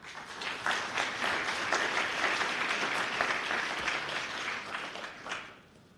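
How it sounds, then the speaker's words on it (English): Audience applause at a 2023 Cupertino, California State of the City address, a dense wash of many hands clapping from a large room, swelling quickly, holding steady, then fading away at the end. "Thank you for the applause."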